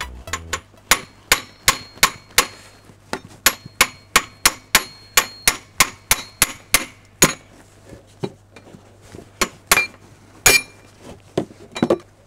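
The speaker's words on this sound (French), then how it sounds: "avec un marteau on tape dans le sens en fait des aiguilles d'une montre comme pour serrer" A hammer strikes a 32 mm wrench on a BMW E39 fan nut in a quick, steady series of sharp metallic clanks, then slower, more spaced blows near the end.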